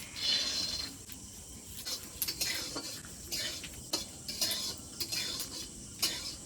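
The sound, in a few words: peanuts frying in a little oil in a wok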